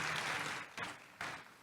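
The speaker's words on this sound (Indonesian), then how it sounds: "Kasih tepuk tangan yang meriah untuk Tuhan Yesus." Church congregation applauding, a faint burst of clapping that fades and then returns in two short surges, with no voices over it.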